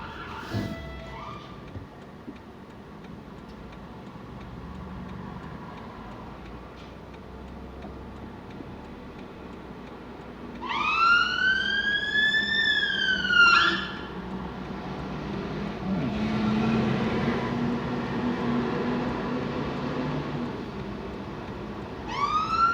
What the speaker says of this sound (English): I hear sirens, and they're coming this way.